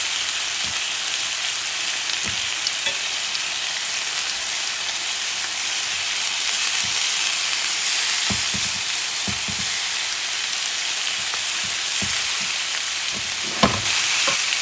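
Sausages and ribs sizzle steadily on a cast iron griddle, a loud continuous crackling hiss with scattered pops and occasional soft scrapes, no voices.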